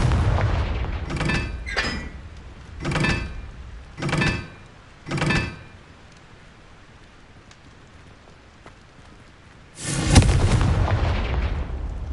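Five booming blasts from the Confringo spell in Hogwarts Legacy come in quick succession, each a short crackling burst. Then after a quiet pause a longer, louder explosion rumbles and decays.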